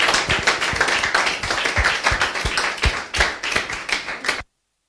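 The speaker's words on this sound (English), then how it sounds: "A round of applause, please, as it comes." Audience applause at a renewable energy innovation challenge demo day, a dense run of hand claps filling about four and a half seconds, then cutting off abruptly.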